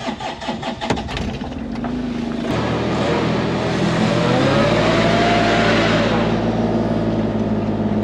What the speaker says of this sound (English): We're gonna get two cold starts in this video.